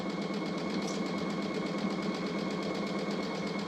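A sewing machine runs steadily while stitching butterfly rag quilt pieces, a continuous even whir with a fine rapid rhythm, close and unbroken, with no talk.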